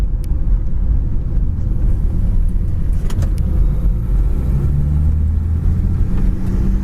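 A six-cylinder car with an automatic transmission drives along, producing a loud, steady low engine rumble with road noise and a few faint clicks, with no talking.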